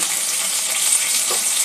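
Onion, ginger and garlic paste frying in a pan for an egg curry, a steady bright hiss of sizzling oil, close and even throughout with no talking.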